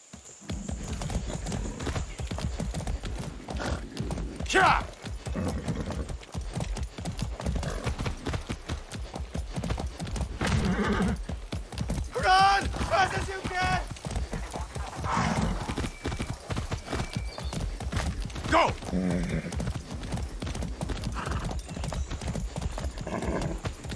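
Horse hooves clip-clop in a steady, brisk rhythm throughout, broken by a few short whinnies, as a horse is ridden in the video game Far Cry 6. Faint game voices occasionally sound beneath the hoofbeats.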